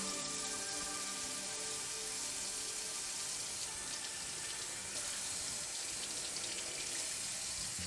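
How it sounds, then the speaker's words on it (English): A kitchen tap runs steadily as a knife is rinsed under it while cooking a hunter's hotpot stew, producing a continuous close hiss of water with a slight change in splash partway through. "I'm just gonna wash my knife."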